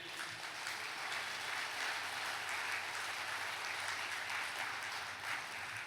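A church congregation claps with raised hands during a sermon, producing a faint, even wash of applause heard from a distance for several seconds.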